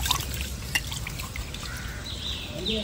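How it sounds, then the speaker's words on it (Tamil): Water trickling and splashing over uncooked rice being washed in a vessel, a soft, continuous dribble with small splashes and a few clinks, recorded up close in a quiet setting. "நல்லா அரிசி 2-3 தடவை தண்ணி ஊற்றி கழுவிடணும்."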